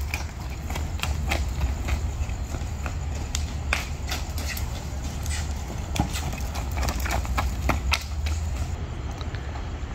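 A horse's hooves clip-clop in an irregular series of sharp knocks on a wooden platform over a steady low rumble of background noise.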